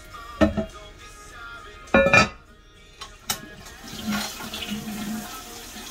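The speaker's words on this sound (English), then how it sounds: "That sounds like a more adequate flush." A household toilet with a newly adjusted flapper flushes nearby: sharp clunks of the handle and tank, then a softer rushing swirl of water that lingers in the background.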